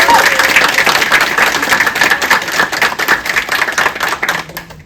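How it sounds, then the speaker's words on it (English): Audience applause at a book event for Banned Books Week, with dense, steady clapping from a crowd that carries on for several seconds before thinning out and stopping near the end. "Let's give one more round of applause to our lovely speakers."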